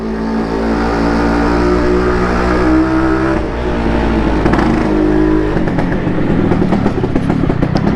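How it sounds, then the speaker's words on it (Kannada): A motorbike engine revs hard during a wheelie outside a mall, a loud sustained whine with shifting pitch, close by and without talk. "ನಮ್ಮ ಗಾಡಿ ವೀಲಿಂಗ್ ಹೊಡಿತೈತೆ, ಅಲ್ಲಿ ನೋಡಿ"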